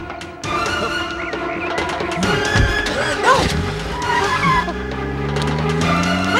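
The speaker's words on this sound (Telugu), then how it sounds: "వదినా కారు తీసుకెళ్ళిపోతున్నాడు" A car is driven away during a tense domestic scene in a Telugu TV drama: an engine starts, then revs and accelerates with a rising, droning pitch that stays fairly close, while voices call out.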